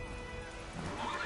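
A horse in the video game Witcher 3 gives a short, close whinny, a brief rising neigh with a hint of hoof clatter.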